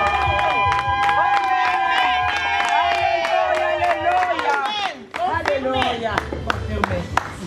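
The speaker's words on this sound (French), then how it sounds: "On les acclame." Wedding guests at a church ceremony cheer, whoop and applaud the couple, with a dense, loud crowd roar and a voice speaking over it throughout.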